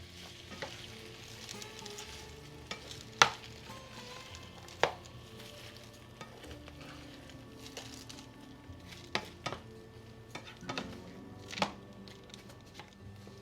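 Riced cauliflower is stirred through cooked hot sausages in a pan. A soft steady frying hiss runs throughout, broken by scattered sharp clicks and scrapes of the utensil against the pan.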